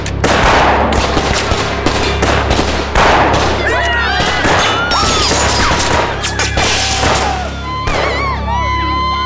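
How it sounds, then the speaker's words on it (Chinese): Loud volleys of rifle gunfire crack repeatedly at a bronze gong on a city tower, rapid and overlapping, with shouting voices throughout and sharp ringing metallic tones in the second half. "其他的兄弟，朝城楼上那个铜锣开枪！"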